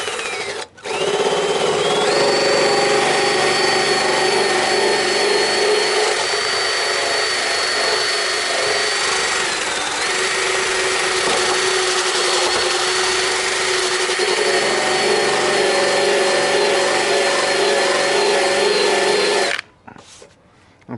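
A Harbor Freight power sander whines steadily for about twenty seconds, loud and close, its high motor pitch wavering slightly as it works across the metal body of a squarebody Chevy truck.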